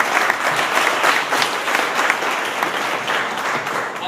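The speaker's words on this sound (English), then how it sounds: "you all deserve to give yourselves a round of applause for that" An audience at a business presentation breaks into sustained applause, loud, dense clapping from a large group that holds steady before easing slightly at the close.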